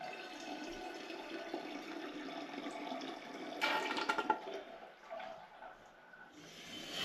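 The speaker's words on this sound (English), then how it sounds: "if I tip that forward it'll flood down into the demijohn" Fruit juice pours from a pan into a glass demijohn, a steady gushing stream with gurgling and splashing that swells midway and then tapers off to a thinner trickle.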